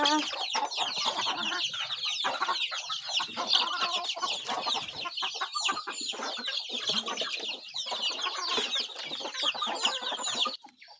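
A flock of farm chickens clucks and squawks busily while being fed, with dense overlapping calls and occasional louder cries filling the whole stretch, close and continuous.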